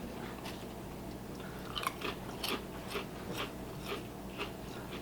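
Close crunchy chewing of popcorn and chips, a series of irregular crisp bites and crunches over a low room hum, with no talk.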